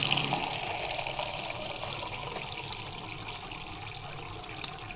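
Water poured onto rice in a pot with coconut oil while cooking coconut curry, a steady trickling and splashing stream that fades slightly over a few seconds, close and alone without talk.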